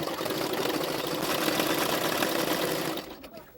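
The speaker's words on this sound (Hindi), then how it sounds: "उल्टा करते हुए जो एक्स्ट्रा फैब्रिक लगा है इसमें और एक सिलाई डाल रही हूँ।" A sewing machine stitches a double katori blouse in one steady, close, loud run lasting about three seconds, then stops abruptly.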